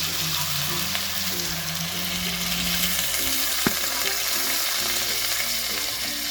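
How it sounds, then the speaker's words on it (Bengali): Water poured into a hot cooking pan of Bengali ridge gourd and prawn curry: a loud, steady sizzle and hiss over a rushing, bubbling bed that continues the whole time. "এখন ঝোলের জন্য দিয়ে দেবো জল।"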